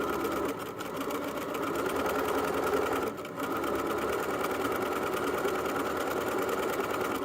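A sewing machine stitches a lanyard seam at 1/8 inch seam allowance, running steadily with a continuous mechanical whir and rapid needle rhythm for the full length, up close, with only a brief dip near the start and middle.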